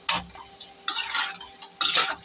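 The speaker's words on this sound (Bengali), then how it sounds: "এখন ডিমটা ভালো করে ভাজতে হবে" Bird eggs frying in a wok with a spatula stirring in three short scraping bursts, each with a light sizzle, close and clear, and no voices.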